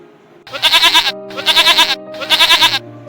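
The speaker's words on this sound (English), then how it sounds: "Now we will hear the sound of a goat." A farm goat bleats three times in a row, each call loud, close and wavering, separated by short pauses.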